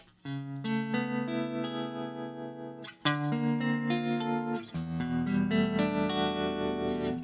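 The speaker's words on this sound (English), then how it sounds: "Let's hear what the regular tremolo sounds like" A distorted electric guitar plays sustained chords through a Koch "The Greg" signature amp with its regular tremolo effect pulsing, two phrases separated by a short break, loud and close.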